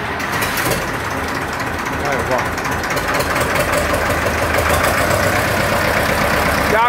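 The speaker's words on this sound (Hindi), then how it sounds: "क्या गजब आवाज है ट्रैक्टर की" A two-cylinder tractor engine idles steadily with a low, rough chugging rumble, loud and close, continuous throughout.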